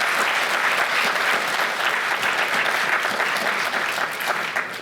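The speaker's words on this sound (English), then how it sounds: "So big round of applause for Zainab as well also, please." An audience at the Young Muslim Writers Awards 2019 gives dense, steady applause that stays loud and unbroken for about five seconds, with no talk over it.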